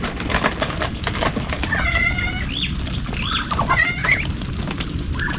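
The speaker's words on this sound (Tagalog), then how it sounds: "ito mga kambing" Goats bleat on a farm, with several wavering calls rising over a steady background of rustling and farmyard noise, fairly close by.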